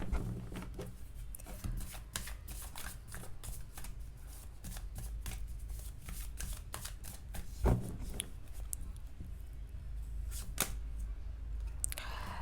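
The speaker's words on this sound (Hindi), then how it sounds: "जब मैं कार्ड शफल कर रही थी ना" Tarot cards shuffled by hand in a steady run of soft, rapid riffling flutters with brief slaps, close and fairly quiet, with no talking over it.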